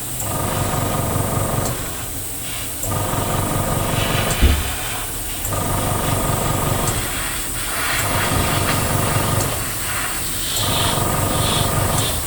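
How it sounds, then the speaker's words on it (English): An airbrush spraying Tamiya paint onto a B-17 model kit, a steady close hiss broken into several long bursts with short gaps between them, and a faint tap partway through. "This airbrush does love Tamiya paints, not Vallejo so much."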